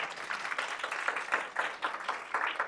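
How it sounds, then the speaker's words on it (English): An audience applauds a panelist, a high school superintendent, at an equity panel discussion; dense, steady clapping from many hands fills the whole stretch, with brief swells. "yes, you can clap"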